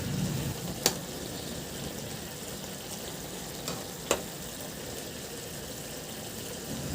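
Bangus fish and pechay simmer in a pot as a spoon stirs gently, with a soft continuous bubbling sizzle and two brief clinks of utensil against the pot.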